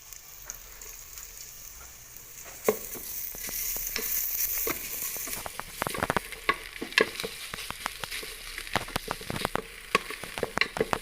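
Garlic stir-frying in a hot pan for Thai green curry: a steady oily sizzle that grows busier, with many sharp scraping and clacking hits of the spatula against the pan, close and without talk.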